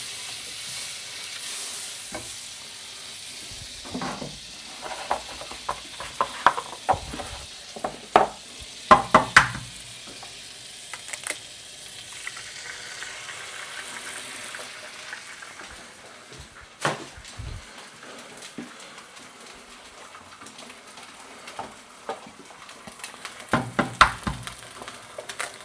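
Bacon and eggs frying in butter in a pan, a steady soft sizzle with intermittent stirring and scraping clatters, close by and without talk.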